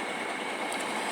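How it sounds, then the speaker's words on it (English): A truck hauling dirt away from a construction site, heard as a steady, fairly loud broadband rumble that stays unbroken and alone throughout. "I should hear sounds like this truck's moving."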